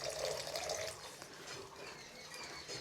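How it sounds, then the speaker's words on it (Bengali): A little water is poured into a pan of spiced fish curry being cooked, a short faint splash and watery hiss that quickly settles into a soft sizzle, with no talking. "এখন আমি অল্প জল দিব"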